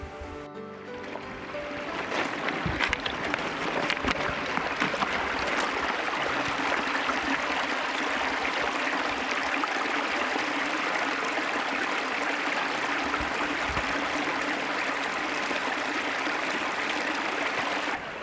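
Creek water rushes and babbles steadily nearby in the woods, a continuous burbling flow with occasional small splashes.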